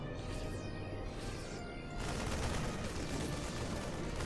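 In StarCraft 2, a Widow Mine missile strikes an army, first a pair of sweeping whistles and then a sudden burst of dense crackling impact that carries on loud to the end.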